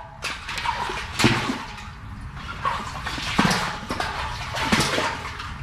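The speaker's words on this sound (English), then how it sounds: "we're gonna bob it around a few times in the water." Metal magnet on a rope bobbed up and down in the water of a deep well beside an abandoned cabin, giving repeated hollow splashes and sloshes at a steady rhythm, echoing faintly in the shaft with no talk.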